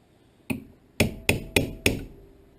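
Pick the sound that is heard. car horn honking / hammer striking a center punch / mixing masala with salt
hammer striking a center punch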